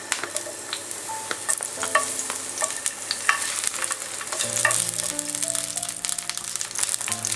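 Spring onion bottoms fry in olive oil for vegetable fried rice, producing a bright, continuous sizzle close by, broken by crisp stirring scrapes and crackles that grow slightly busier toward the end.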